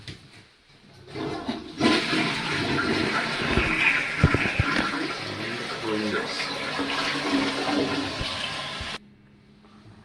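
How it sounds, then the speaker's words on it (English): A toilet flushes up close with a loud, rushing swirl of water lasting several seconds before cutting off abruptly, while a voice speaks briefly. "flush the potty."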